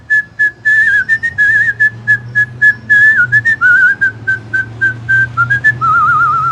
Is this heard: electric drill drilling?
no